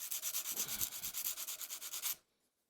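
A curved scraper is rubbed over abrasive grit paper in quick back-and-forth strokes, about a dozen close rhythmic scrapes that stop abruptly, leaving quiet.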